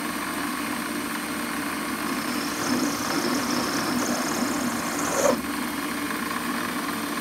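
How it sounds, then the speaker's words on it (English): A Warco lathe chamfers the edge of a hole in a shop-made quick change tool post part, giving a steady, close mechanical hum with a brief, sharper scrape near the end. "So we'll have a little chamfer on that hole"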